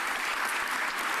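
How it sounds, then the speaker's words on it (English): Attendees at a mayor's press conference give a brief round of applause for returning city workers, a moderately faint burst of steady clapping with no talk. "Can we give them a round of applause since they're back?"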